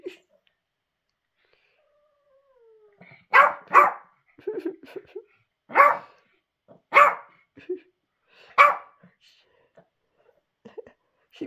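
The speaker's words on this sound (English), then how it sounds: "You keep barking at her." A dog gives several short barks and grumbling vocalisations in uneven bursts, close and moderately loud, with quiet pauses between.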